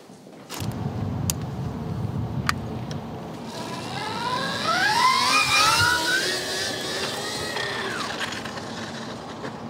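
An electric motorcycle on a test ride, its motor whine rising and sweeping in pitch as it accelerates and slows, with a few sharp clicks early on and steady road noise, moderately close.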